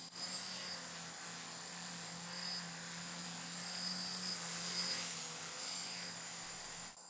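A VTOL aircraft model flies and hovers through a steady, loud rotor whine with a high-pitched buzz, continuous for the whole stretch and gently swelling midway, with no voices over it.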